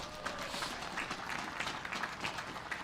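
An outdoor crowd at a US Navy ship commissioning ceremony in a Milwaukee park gives a faint, scattered round of applause, thin and distant, with irregular claps over open-air ambience.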